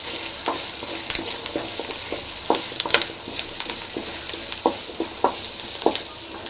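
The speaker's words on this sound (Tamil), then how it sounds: "நல்லா க்ளீனாக வந்து வறுத்து நல்லா ஃப்ரை ஆகணும்" Dried red chillies frying for masala dosa filling, a busy close sizzle broken by frequent scraping stirs and clatters in the pan, with no talking.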